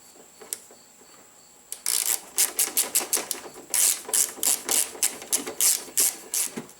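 A ratchet tightens wiper linkage bolts on a Pontiac G6, a close run of sharp rapid clicks in short bursts with brief pauses between strokes, after a few quiet faint ticks.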